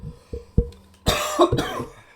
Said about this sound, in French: Je tousse encore, hein, ça arrête pas